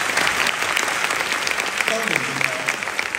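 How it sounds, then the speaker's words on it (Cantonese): A theatre audience applauds steadily throughout, with a voice speaking over the clapping near its end. "請大家俾熱烈掌聲！"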